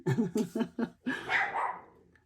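Dogs barking indoors, a quick run of four close sharp barks followed by a longer, louder bark that fades out, with no talking over it.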